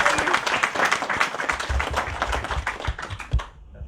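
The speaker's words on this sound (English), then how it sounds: "Let's give her a round of applause." A crowd claps in a sustained round of applause at a Ramayan Katha gathering in a London temple, with dense overlapping hand claps that thin out and fade at the end.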